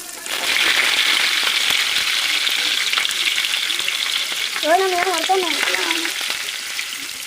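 Mustard seeds and cumin sizzle in hot oil with a loud, close, continuous crackling hiss, and a short high squeak partway through; no one speaks.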